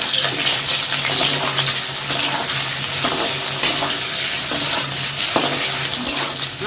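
Paneer pieces fry in a pan with a steady, close sizzling hiss that runs throughout, dotted with occasional light pops and clicks.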